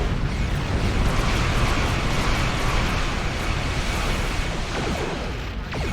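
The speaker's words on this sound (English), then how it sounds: "Charge everything. And shoot it. Go, big torpedo." Big torpedo fired and exploding in Star Trek Online, a dense roaring blast that holds loud and steady for several seconds before easing slightly, with no talking.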